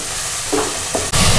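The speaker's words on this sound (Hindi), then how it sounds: "इसको हल्का सा हमने भूनना है टमाटर को" Chopped tomatoes and green chillies frying in masala for a dhaba-style daal mash, a loud, close sizzle with a couple of spatula stirs and a sharp burst of frying toward the end.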